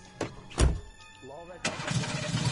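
A car engine cranks and catches in the horror video game Friday the 13th, with a short burst near the start and a fuller rumble from mid-clip on, under excited talk.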